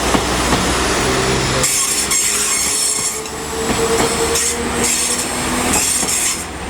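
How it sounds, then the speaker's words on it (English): Train 195124 pulls out of Leeds station on a service to Blackpool North, loud and close, with a steady rumble, wheel squeal and rhythmic clatter rising and shifting as it gets under way. "off goes 195124 with the service to Blackpool North"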